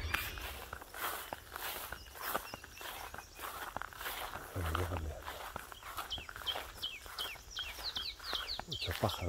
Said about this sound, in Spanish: Se escucha mucho pájaro.